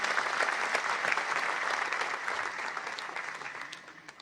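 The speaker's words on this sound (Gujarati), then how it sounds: "એકવાર તાળીઓથી જોરદાર આભાર માનીએ." Audience applause at a medical association's centenary national conference in Gujarat, honouring the Chief Minister; a steady, loud wash of clapping from a large crowd that holds throughout and tapers slightly toward the end.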